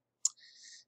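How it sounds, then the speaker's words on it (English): A single computer mouse middle click during CAD modelling: one sharp, close click followed by a faint, brief high-pitched tone, with no voices. "We'll middle click over here of 42."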